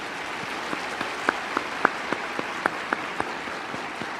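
Sparse, individual hand claps ring out one after another from an audience at a Jehovah's Witness convention, spaced irregularly over a low hall hiss rather than building into full applause.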